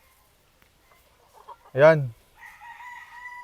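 Farm chickens scratching around hollow blocks at a coop platform give one loud, short rooster-like call, followed by faint clucking and a brief spoken word nearby.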